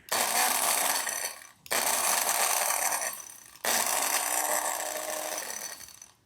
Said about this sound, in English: If you pulse it by like pushing and releasing, kind of resets where they are and they grind more effectively.